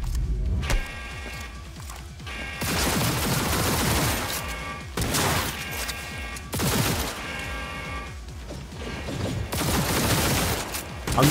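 Rapid pistol gunfire bursts in the video game Cyberpunk 2077, several loud volleys of shots with brief pauses between them over a dense game soundtrack, no speech.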